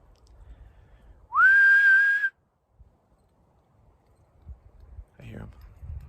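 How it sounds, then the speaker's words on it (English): A single dog-training whistle sounds once outdoors to call a dog, a loud pure tone about a second long with a quick rising onset, followed by quiet rustling and a faint distant voice. "I'm gonna do the whistle, see what happens."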